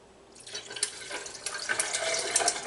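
Cucumber juice is poured over a glass, a light liquid trickle and splash that starts after a quiet moment and grows steadier and fuller toward the end, close and fairly soft.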